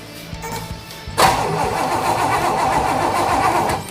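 A car engine on a wiring-repaired project car is cranked with the key but fails to fire for lack of spark. After a brief quiet moment, a loud, steady churning crank runs for several seconds, close by.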